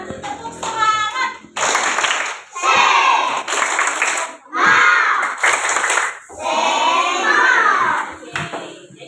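A classroom doing the tepuk semangat cheer, with bursts of rhythmic group clapping and shouted chanting in loud, repeated phrases separated by brief pauses.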